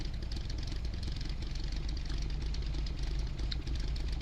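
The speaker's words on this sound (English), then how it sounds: "So here we have a basic of the Flats air-cooled 4-cylinder engine." A steady, rumbling idle from an air-cooled four-cylinder tractor engine in Farming Simulator 2015, droning evenly and fairly close throughout with a faint knocking texture and no talk.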